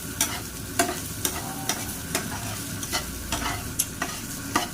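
Rice frying in a pan as fried rice, a close, steady sizzle broken by regular scraping strokes of a spatula roughly every half second.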